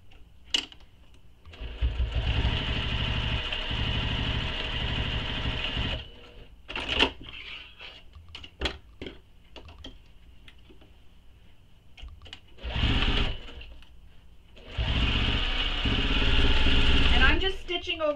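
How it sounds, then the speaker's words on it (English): A sewing machine bastes a bag connector in place, its motor whirring in bursts of rapid, close stitching separated by pauses, with a person talking in between. "We're going to baste this in place."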